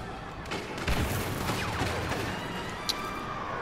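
An AT-ST walker firing in Star Wars Battlefront on Sullust: fairly faint, distant blasts, with one louder thump early and a sharp crack near the end, over a low rumbling battle background.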